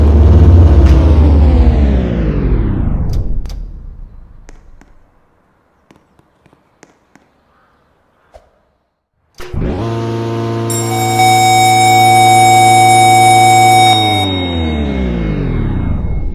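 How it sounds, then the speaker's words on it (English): Thunderbolt siren winding down from a loud wail to silence over several seconds, a few faint clicks in the quiet gap, then the blower kicks in and the siren spins back up into a loud, sustained tone. "As I activate the blower, I'm going to let the siren fully wind down, and then do a full test."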